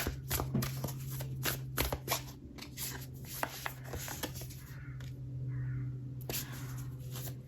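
Sacred Destiny Oracle cards being shuffled by hand: a series of sharp riffling and slapping bursts, close and fairly quiet, against a steady low hum, with no one speaking.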